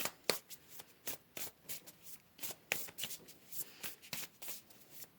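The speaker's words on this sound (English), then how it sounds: "So let's go ahead and pull some more cards." A deck of tarot cards being shuffled and pulled by hand, producing quiet, rapid riffling and flicking bursts in a steady irregular rhythm, close and soft with no talking.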